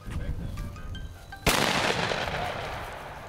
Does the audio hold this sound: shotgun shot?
yes